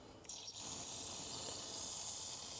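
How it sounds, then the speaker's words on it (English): A can of PB Blaster penetrating oil gives a steady, continuous hissing spray at close range, starting with a short sputter and then holding even and loud to the end. "At the moment it appears to be spraying"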